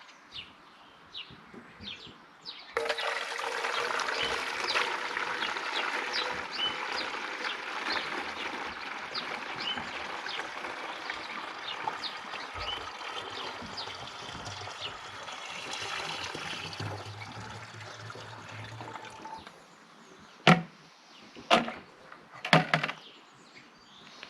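Water pouring steadily into a plastic measuring bucket with a scale, a continuous splashing stream lasting about fifteen seconds, close, followed by a few sharp knocks and handling clunks.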